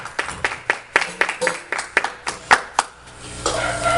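A church congregation claps during a sermon, a series of sharp, fairly regular hand claps rising to a brief burst of applause near the end.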